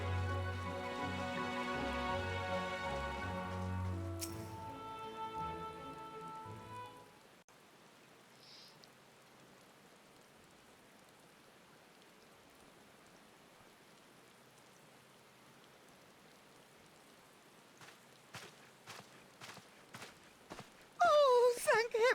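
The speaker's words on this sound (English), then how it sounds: "It's raining all over the place today." Steady, soft rain hiss falls across a Final Fantasy XIV scene after a musical passage ends, with a few sharp footstep-like clicks near the end.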